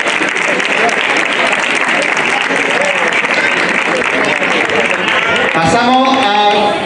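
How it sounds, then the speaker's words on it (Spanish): Loud, dense applause from a crowd at an outdoor race prize-giving in Dos Torres, Córdoba, continuous for several seconds, with an announcer's voice coming in near the end. "Un fuerte aplauso."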